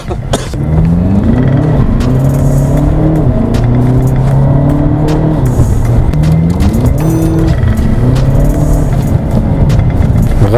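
A 300 hp Volkswagen Passat B8 4Motion launches hard from launch control, its engine roaring loud and close and rising in steady pitch steps through each gear with no pause.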